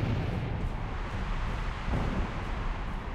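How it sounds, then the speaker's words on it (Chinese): Thunder in the video game ARK: Scorched Earth rumbles as a steady, dense low roar with no distinct cracks, filling the short stretch evenly and without any voices. "一开始以为这个打雷会电死人"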